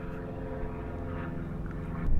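A Mercedes-Benz GLC 250d AMG Line with a 2.2 litre diesel engine of just over 200 horsepower is driven, giving a steady low droning engine and road rumble heard from inside, swelling louder at the very end.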